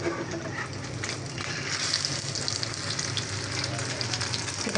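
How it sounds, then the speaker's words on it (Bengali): An egg fries with onion and chili in a home kitchen pan, giving a steady, dense sizzle and crackle throughout, close and moderately loud. "বাবার জন্য ডিম ভাজি করে নিচ্ছি পেঁয়াজ মরিচ দিয়ে।"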